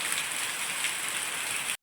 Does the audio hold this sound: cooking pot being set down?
no